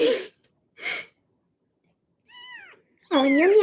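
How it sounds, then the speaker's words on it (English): Two young male cats, near-identical littermates, let out a couple of short breathy sounds followed by two close meows, the last one loud and drawn out, with silence between calls. "Oh, and you're meowing at me."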